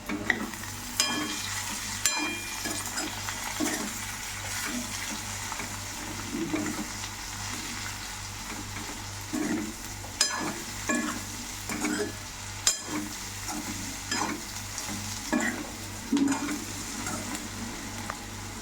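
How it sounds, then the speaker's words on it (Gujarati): A ivy gourd and potato curry with cumin seeds sizzles and fries in a pan while being stirred, a steady close frying hiss broken by repeated scraping stirs throughout. "દાણા જીરું નાખીશું. હવે મિક્સ કરી દઈશું."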